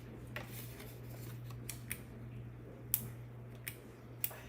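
Scissors snip through paper or cardstock in a few sharp, separate cuts spaced over several seconds, with a steady low hum in the background and no talking.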